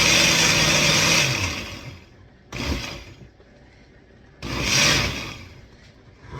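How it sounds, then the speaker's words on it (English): A home blender chops goat meat ingredients in two short whirring bursts separated by pauses, loud and close, after a longer opening run that winds down. "So we're going to blend it. It's my lovely blender."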